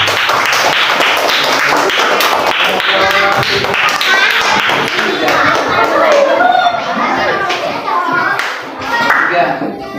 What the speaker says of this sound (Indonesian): Iya, tepuk tangan anak-anak.